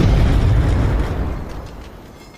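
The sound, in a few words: cannon fire sound effect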